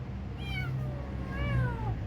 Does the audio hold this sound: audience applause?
no